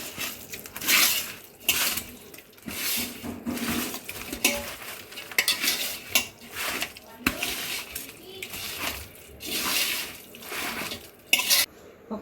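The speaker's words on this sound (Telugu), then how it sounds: "రైస్ ఇలా కలుపుకోవాలి. ఇదంతా మంచిగా మిక్స్ చేసుకోవాలి." A spoon scrapes and clanks against a metal pot in a steady, repeated rhythm as rice is stirred and mixed for Hyderabadi dum biryani, with close, fairly loud metallic knocks throughout and talking over parts of it.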